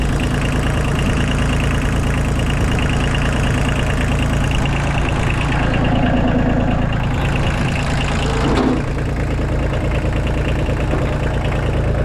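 A diesel engine idles steadily on a Kubota L2201G compact tractor, a loud low rumble held close for the whole stretch with slight knocking, no talk over it.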